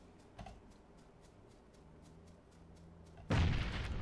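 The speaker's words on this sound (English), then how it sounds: "that was a random nade" In PUBG, a grenade goes off with a sudden loud, broad blast late in the moment, following a short sharp crack and a stretch of quiet game ambience with faint key clicks.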